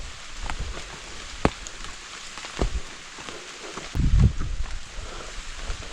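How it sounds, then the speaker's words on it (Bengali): Rain patters steadily in the Kirstong forest of Bandarban, a soft continuous hiss with scattered louder drops and a brief heavier gust of rustle near the end. "এই বৃষ্টি আসে"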